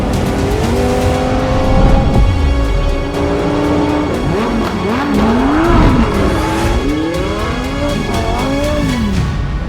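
A Lamborghini Huracan Sterrato driven hard on a dirt rally stage in the desert, its engine loud and close, revving up and down in rising and falling sweeps through gear changes, with gravel spatter underneath and no talk.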